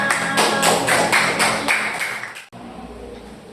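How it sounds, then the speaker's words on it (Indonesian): A class applauding together, a run of fast, bright claps close by that stops abruptly, leaving quiet room noise. "tepuk tangan untuk kita semua"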